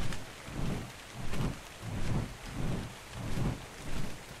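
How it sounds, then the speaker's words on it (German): Rain pours steadily in the video game ARK: Survival Evolved while low thunder rumbles in slow, regular swells, rolling about every half second to second, with no voices. "Oh, Regen, schön."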